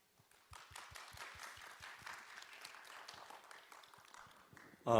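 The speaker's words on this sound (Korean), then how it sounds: "큰 박수로 맞이해 주시기 바랍니다" Audience applause welcoming a speaker at the KME 2020 conference. It starts with a few separate claps, builds into steady, moderate clapping and fades toward the end before a voice begins.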